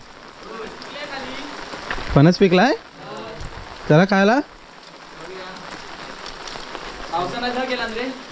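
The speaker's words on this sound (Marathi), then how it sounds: "पाऊस पडतोय बऱ्यापैकी" Steady village rain in the Konkan patters and hisses in the background while a person speaks in short bursts over it.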